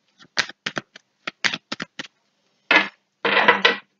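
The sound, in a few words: shuffling and drawing tarot cards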